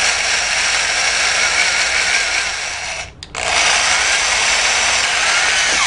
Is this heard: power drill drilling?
yes